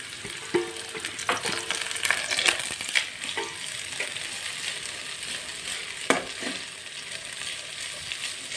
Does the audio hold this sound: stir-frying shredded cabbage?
yes